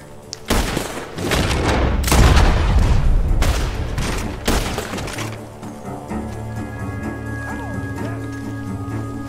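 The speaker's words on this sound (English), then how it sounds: "Gunshots are coming from that barn!" Loud bursts of gunfire erupt from a barn in Red Dead Redemption 2, several sharp booming shots in the first half, giving way to quieter ambient game sounds and tones.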